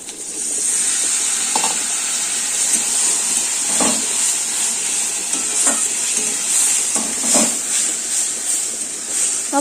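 Spices with chili powder and a splash of water being sautéed in a pan at home, a steady close sizzle and hiss with occasional scraping stirs of a spatula against the pan.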